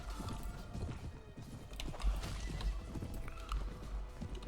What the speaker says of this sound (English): Just knock out their horses if we can.